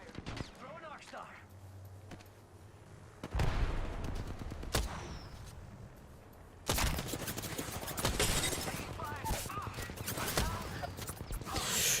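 Game gunfire erupts in loud bursts of shots, with a sustained fusillade filling the latter half amid an online shooter match, while a voice talks over parts of it.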